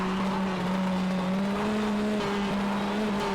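A shifter kart's engine on a track screams at a steady high pitch, loud and close, with a faint tyre squeal edge and no talking.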